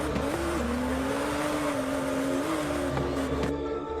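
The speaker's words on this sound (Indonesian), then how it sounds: "Arman terkejut dan refleks menekan rem sekuat tenaga." A truck brakes hard and skids on a road. Its tires let out a loud, sustained squeal over steady engine and road noise that runs for about four seconds with no speech.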